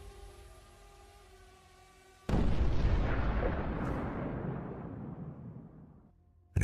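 A 550-pound bomb explodes on Russian trench positions: one sudden, loud, deep blast that rolls on and slowly fades over several seconds, with a faint low rumble before it.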